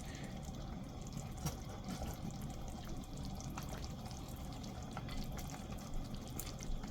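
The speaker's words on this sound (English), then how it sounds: "let this boil, and don't disturb the stirring." Liquid boiling in a pot for a hotplate chicken dish, bubbling and gurgling continuously at a low, even level with small pops and drips throughout.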